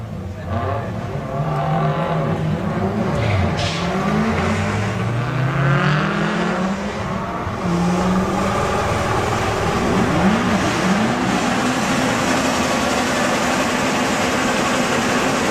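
Volkswagen drag race cars at the VWDRC Summer Nationals at Santa Pod Raceway, engines roaring and revving hard through rising gear changes, loud and continuous, with a commentator talking over them.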